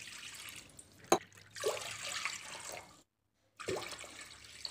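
Water poured from a glass into a cooking pot in a home kitchen while measuring water for boiling sabudana, a steady splashing stream broken by a short pause before a second pour, close and clear.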